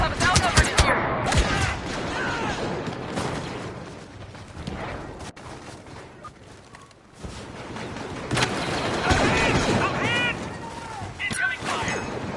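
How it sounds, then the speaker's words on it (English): Bursts of gunfire in a video game combat scene, rapid shots and explosions layered with shouted voices and game sounds, loud and busy throughout. "Incoming fire!"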